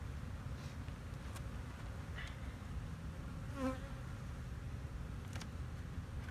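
Honeybees buzz around hive frames while a colony is being split into queen castle frames, making a continuous, soft, even hum close by that barely changes throughout, with no talking.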